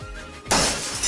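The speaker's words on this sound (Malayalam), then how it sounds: "ഇപ്പോൾ ദേ എൻ്റെ എത്രാമത്തെ പാത്രമായി പൊട്ടിക്കുന്നേ" A dish breaks and shatters in a home kitchen during washing up: a quiet lead-in, then a sudden loud crash with scattering fragments ringing on for most of a second.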